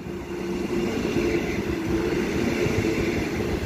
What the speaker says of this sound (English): Express service to Perth. Now passing through platform number 1.